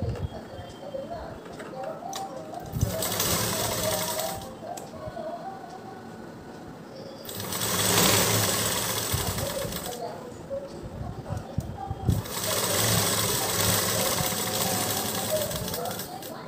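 A sewing machine stitches a two-layer fabric face mask at home, running in three loud mechanical bursts of rapid stitching separated by quieter pauses.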